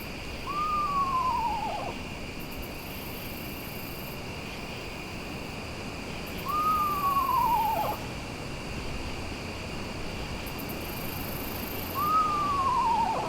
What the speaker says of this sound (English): The screech owl is pretty social.